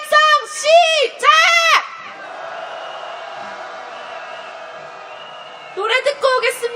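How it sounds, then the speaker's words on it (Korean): Crowd at a candlelight march calling for Yoon Suk-yeol's impeachment, with bursts of loud rhythmic chanted shouts, then a sustained murmur of voices before chanting picks up again at the end. "윤석열 탄핵의 함성 시작!"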